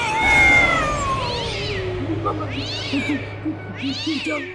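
A cat lets out a long, drawn-out meow followed by two more yowling cries, close and loud, with low rumbling noise underneath.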